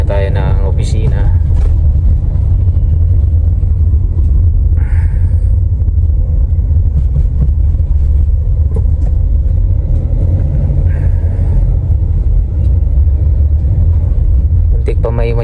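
Cabin of a Toyota Super Grandia Elite van on the road, a loud continuous low engine and road rumble filling the whole stretch, with people talking over it now and then.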